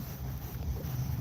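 Wind gusts roar and buffet the microphone outdoors on a fishing trip, a steady low rumble filling the short stretch with no speech.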